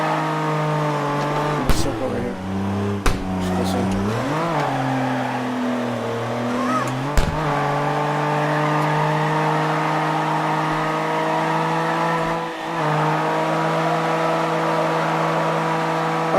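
Car drifting in CarX Drift Racing Online, a loud sustained engine drone that dips and climbs in pitch as it slides through a circle, with a few sharp clicks and someone talking over it.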